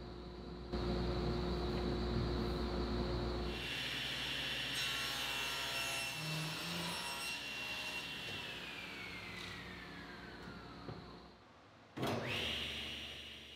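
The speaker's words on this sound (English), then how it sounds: "When I cut the boards to width, I'll take a little off each side" A table saw rips glued-up wooden boards to width, taking a little off each side of a bench top; a steady, loud whining cut with a rubbing, rasping edge runs for about eleven seconds, drops briefly, then resumes.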